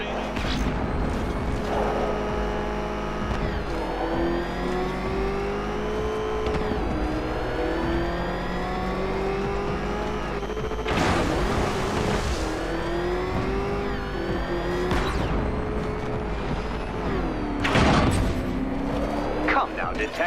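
Batmobile engine in Batman: Arkham Knight revving loudly and continuously for about twenty seconds, pitch rising and falling with bursts of acceleration, plus a couple of loud crashing impacts. A voice talks over the engine.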